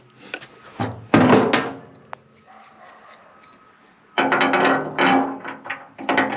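Heavy metal hammer blows knocking a dozer blade pivot pin out of a John Deere 350C in a workshop: a few loud, sharp clanging impacts near the start, a lull, then another flurry of strikes.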